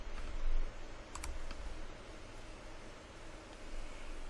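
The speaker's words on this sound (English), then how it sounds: "And she's typing." Quick, light keystrokes on a computer keyboard tap out at an uneven pace, faint and close under a steady background hiss.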